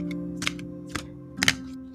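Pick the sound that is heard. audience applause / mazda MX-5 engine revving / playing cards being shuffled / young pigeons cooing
playing cards being shuffled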